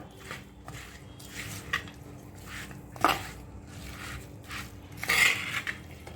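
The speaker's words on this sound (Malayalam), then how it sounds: "നല്ലതുപോലെ മിക്സ് ചെയ്യാം" Chicken and raw banana curry is stirred in a clay pot. A spoon scrapes and knocks against the pot in uneven, repeated strokes, with one sharper clack in the middle.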